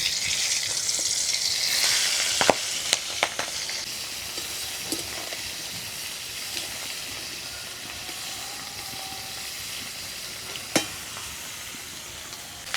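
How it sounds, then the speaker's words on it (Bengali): Prawns sizzle steadily in hot oil with a continuous crackling hiss, broken by occasional sharp clicks and scrapes of a utensil. "মাছগুলোকে হালকা ভেজে নিব"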